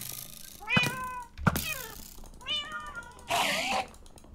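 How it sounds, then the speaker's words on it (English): Cats in a Minecraft modpack let out four distinct meows in quick succession, each a rising-then-falling game sound effect, fairly clear and close with little else around them. "I hate those cats so much."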